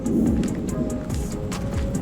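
Rain falls steadily in Florida, a dense continuous wash of drops with scattered sharper patters, heard close and fairly loud with no voices.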